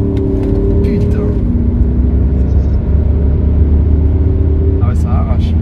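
An Audi SQ7 with its 4.0 V8 TDI pulls hard under acceleration, a loud steady low engine rumble heard from inside the cabin with some road noise, while occupants speak over it.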